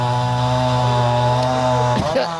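A loud, close chainsaw runs steadily at high revs while cutting down a big storm-damaged tree in Alabama, then its pitch dips and sputters near the end.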